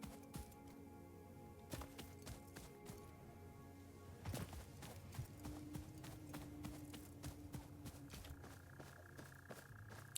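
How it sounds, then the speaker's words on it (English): Footsteps in the video game Satisfactory, a run of quiet, irregular hard taps and thuds over a low hum of machinery. "I swear I just heard footsteps."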